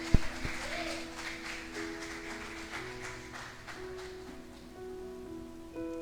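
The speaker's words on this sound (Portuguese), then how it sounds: "Então você pode dar um forte aplauso ao Senhor?" Church congregation applauding during a worship service: a loud opening clap, then a steady patter of many hands that eases off, with sustained music tones underneath.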